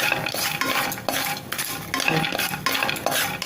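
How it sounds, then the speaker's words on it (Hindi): Peanuts roast in ghee in a pan while a spoon stirs them, producing loud, close rattling scrapes and clinks in quick repeated strokes over a light sizzle. "इसको भूनेंगे, 2 मिनट भूनना है इसको क्रंची होने तक।"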